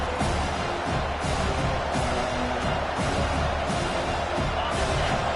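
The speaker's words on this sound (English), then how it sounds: "Listen to this crowd just shaking the girders of this place, trying to help their defense." A dense, loud crowd roar fills the space continuously, a college football stadium full of people yelling without letup during an Old Dominion at West Virginia game.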